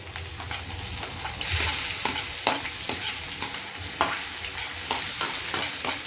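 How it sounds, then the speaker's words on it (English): Finely chopped onion fries in a pan over a high gas flame, a loud close sizzle broken by repeated scraping and stirring strokes. "Into this, I'm going to add this finely chopped onion."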